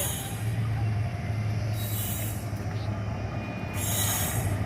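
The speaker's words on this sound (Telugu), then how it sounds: "ఇది రైలు ఇంజను" Close to the tracks, a train engine rolls past with metal wheels squealing in long, high, shrill bursts over a constant rumbling rail roar.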